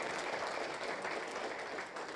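An audience at a digital transformation forum applauds a speaker, a short, steady burst of many hands clapping at moderate loudness.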